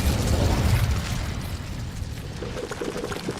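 An Incendio fire spell is cast in the video game Hogwarts Legacy, a loud whooshing burst of flame at the start that fades into a softer crackling rumble, with faint mechanical rattles trailing off.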